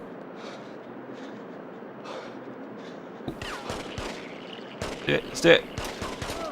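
Gunfire aimed at the player in the PS2 game The Getaway, with sharp bursts of shots and rapid volleys breaking in partway through over low background noise, while a voice speaks in the clip.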